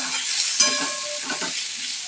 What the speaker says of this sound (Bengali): দু মিনিট মতো কষিয়ে নেব।